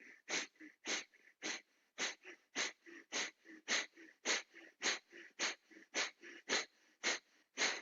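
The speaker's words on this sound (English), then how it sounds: "Then breathe in halfway and begin Kalabati breath." Kapalabhati breathing exercise with a steady train of about twenty sharp, forceful exhales through the nose, evenly spaced roughly every half second, close and quiet with no talking.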